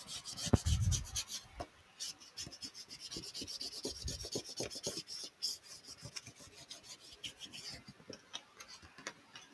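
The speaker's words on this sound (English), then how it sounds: "you want to just give it a good scrape" A Cricut scraper tool rubbing and scraping across a Starbucks cup, close up, in a fast series of rhythmic rasping strokes that trail off, with a couple of louder knocks early on.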